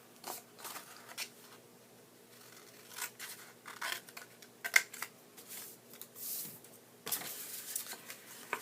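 Scissors snip the small corners off a paper treat box along its score lines, giving quiet scattered clicks and cuts, close by and without talk.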